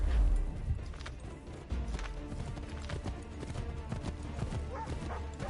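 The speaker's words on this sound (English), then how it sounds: "I've just realised that my horse can actually go a bit faster." Horse ridden in Assassin's Creed III Remastered, steady rapid clip-clop hoofbeats galloping close by in a continuous rhythm, with low game ambience underneath and no talking.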